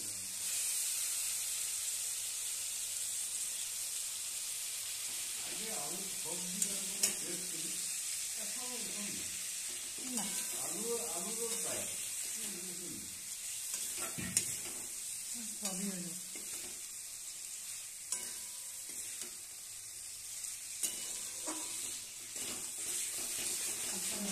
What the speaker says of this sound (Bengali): একটু ভেজে নিচ্ছি আমরা আলুটাকে